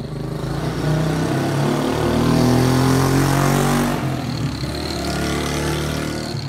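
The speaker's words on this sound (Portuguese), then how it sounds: "Lá vem barulho de uma moto." Loud motorcycle engine roaring close by, swelling as it passes and then dropping off sharply, with steady road noise throughout.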